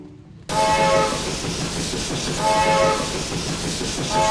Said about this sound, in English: Correct! It's a train.